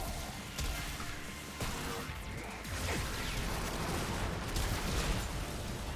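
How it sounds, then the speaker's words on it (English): Explosions pile up in Warframe, a dense, loud, unbroken barrage of crashing blasts and crackling debris, with sharper bursts standing out here and there. "Oh my word, that is a lot of explosions"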